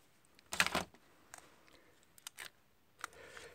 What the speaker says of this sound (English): I shall use a pair of scissors to start it on its way here.